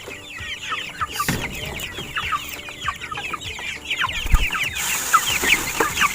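Broiler chickens at feeding time, a flock clucking and chattering continuously at close range, many overlapping calls with scattered rustling and pecking in the background.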